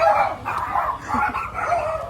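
Small dogs yap and bark in quick bursts, close by, with a faint whimper mixed in.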